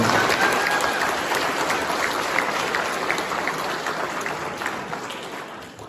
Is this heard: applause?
yes